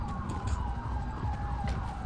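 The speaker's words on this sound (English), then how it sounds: "Turn your damn siren off." Police car siren wailing in a steady, fairly loud tone at a street arrest scene, heard alone without talk.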